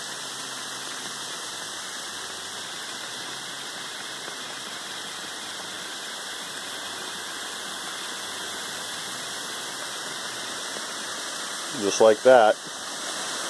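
A gold and quartz specimen in boiling 35% hydrogen peroxide, giving a steady, dense rushing fizz of bubbling that stays even throughout, with a brief clatter near the end and a short spoken remark.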